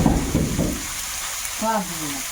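Curry with turmeric is stir-fried in a pan, giving a dense, close sizzle and scraping for under a second before it thins out. A voice then speaks briefly over a faint background hiss.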